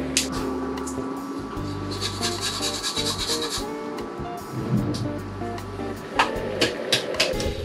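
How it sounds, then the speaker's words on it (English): Watermelon poke bowl ingredients being stirred together in a bowl, giving a continuous wet rubbing and scraping sound with some brief clinks, moderately loud and close, with no talk. "Mix well your watermelon"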